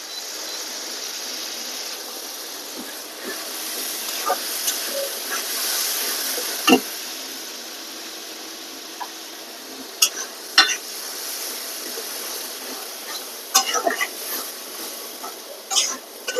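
Dried fish (shutki) fries in hot oil in a pan while being stirred. A steady sizzling hiss runs throughout, with irregular sharp scrapes and clicks from the stirring utensil.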